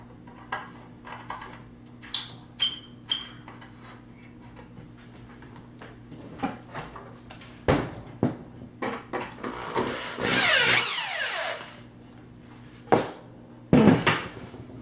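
A screw is driven into a wooden speaker housing, giving a run of close, sharp knocks and clicks with scattered taps, a longer grinding stretch near the end, then a few final loud thumps.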